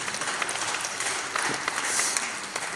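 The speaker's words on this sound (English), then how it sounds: "So we need a big applause for those kind of people who are standing around here, isn't it?" Audience at a web and AI conference camp applauding: a dense, steady wash of many hands clapping, moderately distant and fairly soft, continuous for a few seconds with no clear talk over it.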